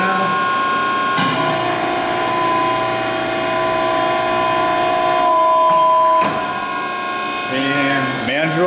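A Hines 300NC-E three-axis NC hydraulic tube and pipe bender runs with a loud, steady mechanical hum and whine while its arm moves back, then the pitch shifts and a brief hydraulic hiss and clunk follow near the end.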